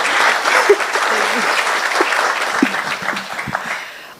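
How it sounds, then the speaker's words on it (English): An audience at an energy conference session on mini-grids claps for a presenter, dense applause running loud and steady for several seconds before tapering off. "Can I have one more round of applause for Lamide?"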